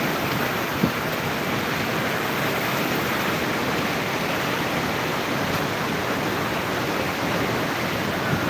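Strong rushing floodwater roars in a loud, steady, broadband wash for the whole stretch, close and unbroken, with no speech over it.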